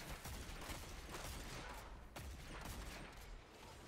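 Rapid gunfire from the video game Dead Man's Tale, a dense continuous fusillade of shots that stays loud for about four seconds with no clear gaps between them.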